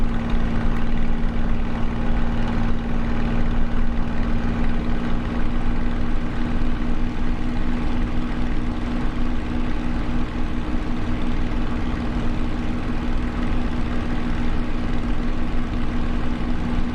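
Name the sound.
Spitfire engine throttling back in Microsoft Flight Simulator video game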